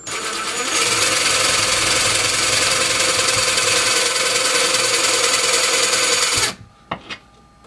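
A power drill drives a wall anchor into a wall, running continuously at high speed with a grinding, buzzing whine for several seconds, then stops abruptly, followed by a couple of brief clicks.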